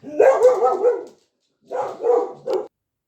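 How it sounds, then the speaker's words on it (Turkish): A dog barks close by: a longer burst of barking, a pause, then a few more quick barks. "Hayır kızım senin havlamanı dinlemeye gelmediler."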